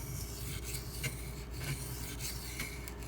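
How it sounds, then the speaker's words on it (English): A small Spyderco Lil Native knife is drawn across large sharpening stones, making close, gritty rasping strokes repeated in a steady back-and-forth rhythm. "it feels a little awkward to sharpen on such large stones"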